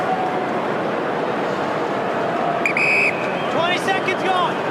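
Shrill whistling rises from the crowd at an Australian football match between Sydney and Hawthorn as a player lines up a goal kick, short piercing bursts over a loud, steady stadium roar.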